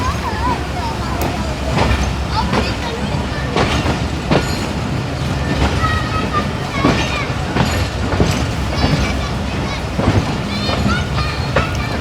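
The Gauri Express passenger train, running from Faisalabad to Lahore, rumbles steadily nearby with a continuous rolling clatter and repeated wheel-on-rail knocks throughout.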